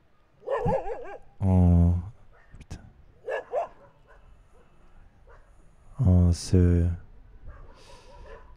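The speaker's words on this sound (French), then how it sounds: "les chiens qui aboient" Dogs bark outside, with a few sharp barks in two clusters that carry clearly into a quiet room, and a calm voice speaks softly between them.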